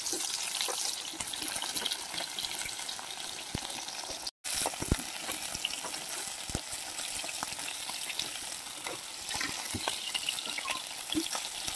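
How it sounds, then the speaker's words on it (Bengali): Fish lightly frying in a little oil, a steady crackling sizzle with scattered pops and stirring scrapes, broken once by a brief moment of silence. "প্রথমে মাছগুলো আমি আবার হালকা হালকা ভাজা করে নেব।"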